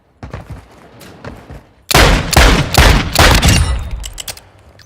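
Gunfire from the video game Call of Duty Warzone DMZ, with sharp burst after burst of close automatic shots, led by a few fainter pops and ending in scattered trailing rounds.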